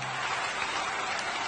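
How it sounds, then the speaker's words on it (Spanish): A studio audience applauds a comedian in a brief, continuous wash of clapping with a faint crowd murmur mixed in. "Qué aplauso, por Dios."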